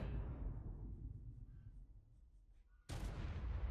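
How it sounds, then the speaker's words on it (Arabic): A cannon fires in the Ark Primal Fear video game: a booming blast decays into a long rumbling tail, then a second sharp shot hits near the end, with no voices. "ابغى اشوف المدفع اللي تحت يطلق ولا ما يطلق"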